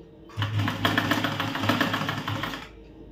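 A sewing machine stitching a blouse runs in one steady, rapid burst of mechanical clatter for about two seconds, starting and stopping cleanly, close up with no talk.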